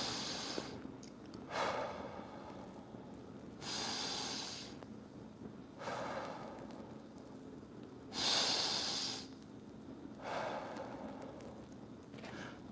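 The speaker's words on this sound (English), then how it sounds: "Let's take some deep breaths." Slow, deep breaths repeat about every two seconds, each long inhale and exhale audible close to the microphone and rising and falling in an even rhythm.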